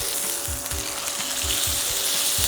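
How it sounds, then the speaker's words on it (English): Steak sizzling in a hot pan just after being flipped, a loud close steady fry with rhythmic low thumps and scrapes, no voices. "I'm going to go ahead and flip my steak"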